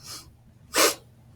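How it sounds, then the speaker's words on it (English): A single sharp sneeze burst, brief and fairly close, after a faint breathy intake, with quiet room tone before and after. "I thought I was going to have a sneeze"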